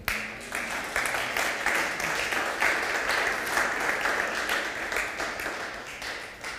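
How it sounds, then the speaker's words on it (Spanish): A church congregation claps steadily during a Spanish-language sermon, with dense, even applause that is fairly distant and soft, holding for several seconds. "Denle un fuerte aplauso al Señor"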